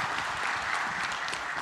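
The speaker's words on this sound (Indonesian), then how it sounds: "Tepuk tangan sekali lagi untuk Ketua Umum kita." Audience applause for the party chairman at a regional Democratic Party congress in West Java, a steady dense wash of clapping from a crowd, moderately loud and continuous throughout with no talk over it.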